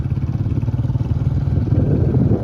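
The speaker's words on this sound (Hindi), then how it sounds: "ऊपर देखिए वो बाइकें आ रही हैं।" Motorcycles approach on a mountain road, a steady low engine drone with rhythmic pulsing that grows slightly louder, continuous and without talk.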